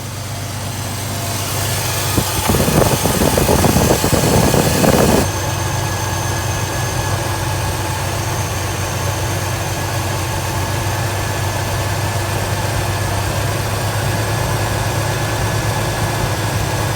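A Chevrolet S10 engine idling during idle mixture screw adjustment, a loud, close, steady low rumble with a brief rougher, louder stretch early on before settling back to an even idle, no talking.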